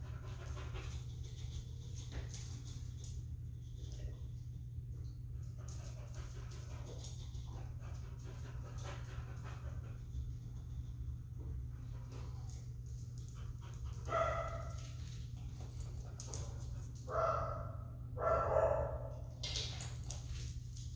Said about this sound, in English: Got some dogs barking.